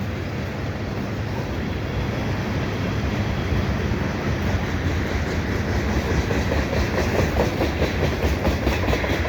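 A CN freight train with an ES44 locomotive rolls past a Dorval footbridge, its loud, steady rumble and rhythmic clickety-clack of wheels on rail joints carrying on throughout.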